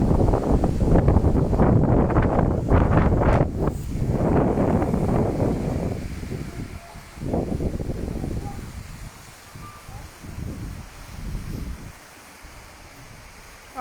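Outdoor wind buffets the microphone in a heavy, roaring rumble, strong at first and then easing into gustier, patchier bursts, with no one speaking.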